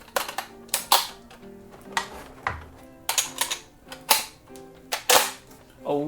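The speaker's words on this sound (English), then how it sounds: "Gotta shoot dual wield, Deadpool style" Two Deadpool-themed Nerf blasters fired together dual-wield style give off loud, sharp snapping pops in irregular bursts, each followed by a brief mechanical clack, close up with no talking.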